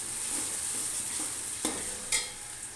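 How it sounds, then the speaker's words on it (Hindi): Five large onions fry in oil until golden for chicken haleem, giving a soft, even sizzle with a couple of sharp spoon taps against the pot; no voices. "प्याज को हम गोल्डन करेंगे।"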